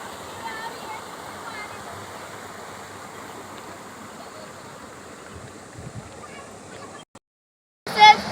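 The Hiranyakeshi river rushes at Ramtirth, Ajara, a steady broadband roar of flowing water that cuts out briefly near the end before a short loud burst.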